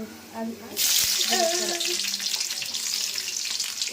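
Dry red chillies, onions and mustard seeds hit hot oil in a pan for a chicken curry, setting off a sudden loud, steady sizzle that keeps crackling close by, with faint talk near the start.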